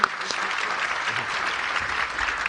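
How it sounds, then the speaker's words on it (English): Conference audience at the Reuters NEXT 2025 event applauding news creators, a short, steady wash of many hands clapping in a large hall, moderately loud with no talk. "Big round of applause, please, for our news creators today."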